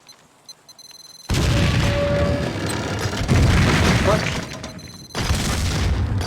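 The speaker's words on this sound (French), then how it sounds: "J'ai entendu la bombe." A bomb goes off in Max Payne 2 as a sudden loud, deep boom, and its rumbling roar runs on for several seconds before a second heavy burst hits near the end.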